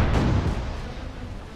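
Ship cannons fire in the virtual reality pirate game Furious Seas, a single loud low boom that rolls off over a second and a half, no speech.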